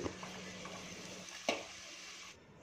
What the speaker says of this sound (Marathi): आपले जे हे मोमोज आहेत ते आपण दोन्ही साइडने मस्त गोल्डन ब्राउन होईपर्यंत फ्राय करून घ्यायचे